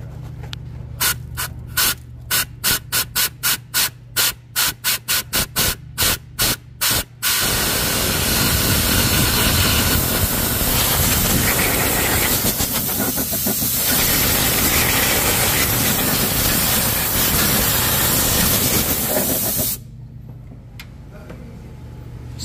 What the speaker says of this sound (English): Now watch when I blow air inside this thing, you're gonna see it come out down there.